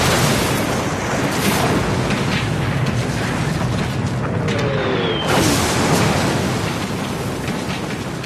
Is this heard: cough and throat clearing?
no